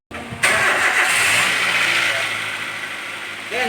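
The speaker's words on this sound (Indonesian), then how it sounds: "Oke, engine nyala ya." A car engine cranks and catches during an EFI relay check, settling into a loud, steady idle that fades slightly over a few seconds.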